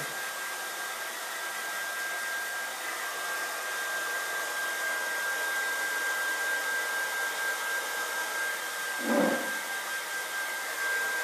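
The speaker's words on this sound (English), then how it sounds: "we're going to just take this hairdryer on cool, but on high" A hair dryer runs steadily on a high, cool setting, a constant close whir with a thin whine and one brief bump near the end.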